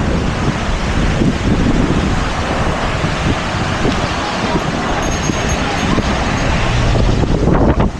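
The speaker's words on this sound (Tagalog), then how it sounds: "Grabe ang alon." Big ocean waves at a surf spot roar in a loud, continuous wash. Heavy wind buffets the microphone throughout.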